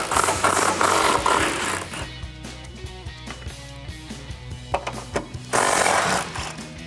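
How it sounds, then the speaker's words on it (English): Impact gun spinning off 13 mm strut tower nuts on a 2008-2023 Dodge Challenger, with loud bursts of rapid hammering at the start and again near the end, separated by quieter clanks and rattles of the socket and parts. "grab your impact gun and your socket and get those 3 off"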